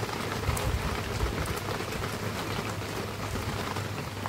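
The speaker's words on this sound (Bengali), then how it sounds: "বৃষ্টি আবার শুরু হয়েছে ভালো মতো" Steady rain pours down in a Sundarbans village, a dense, even patter of drops close by that holds at one level throughout, with no talking.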